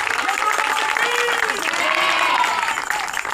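A church congregation breaks into loud, sustained applause during a pastor's visit and message, a dense wash of clapping with faint voices mixed in.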